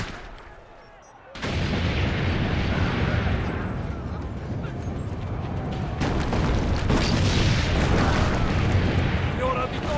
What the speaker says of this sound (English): Aim for the cannons, Signore!